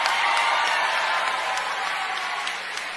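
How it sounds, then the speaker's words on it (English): A crowd of Democrats at a rally gives sustained, even applause and cheering, a continuous wash of clapping that fades slightly toward the end. "that crowd of democracy-defending Democrats were all cheering"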